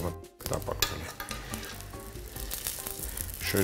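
Eggplant fries in vegetable oil in a pan after being turned, giving a loud, steady sizzle with occasional stirring scrapes and clinks of utensils throughout.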